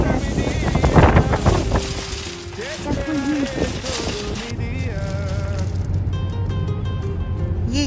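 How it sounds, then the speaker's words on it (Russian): Strong wind during a snowstorm buffeting the microphone outdoors, a loud continuous rushing roar throughout, with someone talking over it at the start. "Ой-ой-ой, какой ветер."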